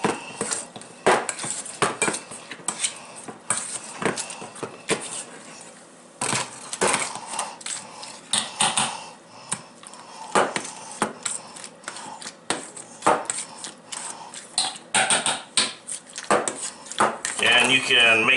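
Ripe avocados mashed in a bowl with added salt and milk for homemade guacamole, giving repeated wet squishing and utensil clatter against the dish at close range, with no talk over it.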